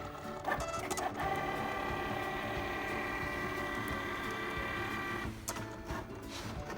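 A vinyl cutting machine cuts freezer paper with a continuous mechanical whir and tonal motor hum, with clicks and short movements at the start and near the end.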